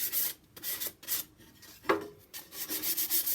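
A wooden whale cutout from a bandsaw is deburred by hand, a series of rhythmic rasping rubbing strokes, close and fairly quiet, with a brief knock partway through.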